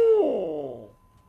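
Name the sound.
mouth call imitating a barred owl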